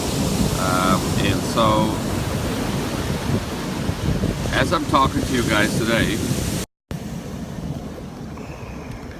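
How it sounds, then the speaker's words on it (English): Ocean waves break and roll in offshore, a steady rushing surf mixed with wind buffeting the microphone, heard under someone talking throughout, with a brief dropout near the end. "you see this wave coming in front of me"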